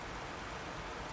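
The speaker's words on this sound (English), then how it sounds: "direct tapping of the rain on the ground suddenly disappears, replaced by a deep, resonant drumming far above our heads" Rain falling steadily on the ground in a night scene in ancient Rome, an even, dense hiss of tapping drops with no breaks, heard alone at moderate loudness.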